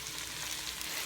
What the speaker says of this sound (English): These onions have been going for probably about 10 minutes now